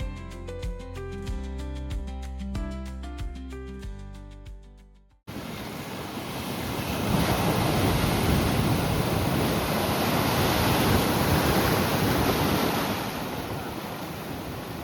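Sea waves at Mandavi beach in Ratnagiri wash in a loud, continuous rushing roar with wind noise, following a few seconds of piano music that cuts off abruptly.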